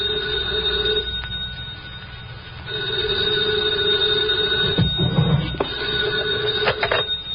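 A telephone bell rings in repeated bursts with short pauses, steady and fairly close, set in a quiet late-night room with no one speaking.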